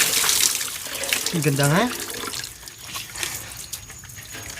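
Water runs and splashes while someone washes outdoors at a natural spring, with close trickling and pouring sounds under people's casual talk.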